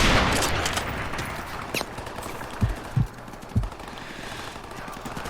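Sniper rifle gunfire from Call of Duty Modern Warfare Remastered: three or four sharp, widely spaced single shots over a noisy battlefield ambience, with a burst of distant gunfire at the start.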